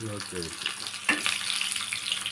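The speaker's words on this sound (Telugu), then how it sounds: "కాగిపోయింది ఆయిల్. వడియాలు వేసాను అందుకని." Hot oil sizzles and crackles steadily as vadiyalu (sun-dried fritters) fry close by, with a brief voice at the start and a sharper pop midway.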